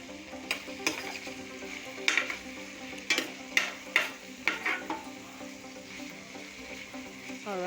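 Tomato and pepper cooking in a pan for spaghetti jollof, a low simmering sizzle broken by a run of sharp metallic clinks and taps from a utensil against the pan, no talking.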